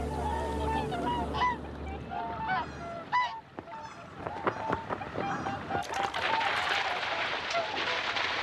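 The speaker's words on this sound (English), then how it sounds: "Hooper swans fly down from Siberia and northern Korea" Wintering whooper swans in Hokkaido, Japan giving repeated bugling, honking calls, several birds overlapping near and far with irregular rhythm, growing denser and busier toward the end over a noisy outdoor background.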